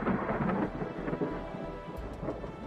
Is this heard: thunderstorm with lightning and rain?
yes